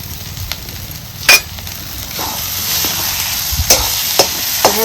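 Mutton sautéing in a pan for a lunchtime curry, frying steadily with a soft continuous sizzle broken by a few sharp clinks of a spoon stirring against the metal.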